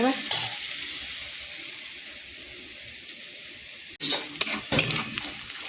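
Onions frying in a pan give a steady close sizzle, then stirring adds a burst of scraping, clinking and louder crackle toward the end, with no voices.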